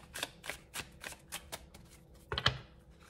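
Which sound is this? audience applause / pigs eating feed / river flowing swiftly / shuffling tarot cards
shuffling tarot cards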